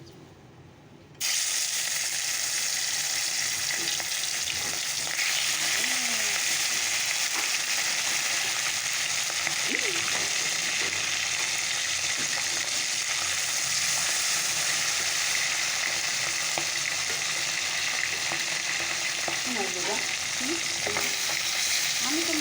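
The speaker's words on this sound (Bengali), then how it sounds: "আগে বড় মাছটা ভেজে নিই" A big fish, coated in salt and turmeric, drops into hot oil in a wok and sets off a sudden loud, sustained sizzle with crackling and a few scraping stirs, close by and with no speech.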